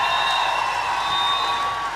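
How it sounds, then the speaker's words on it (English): A conference audience breaks into steady applause, a dense, even wash of clapping that carries on unbroken and at full loudness. "Yeah, you should clap."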